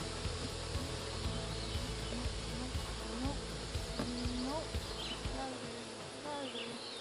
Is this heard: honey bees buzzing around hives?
yes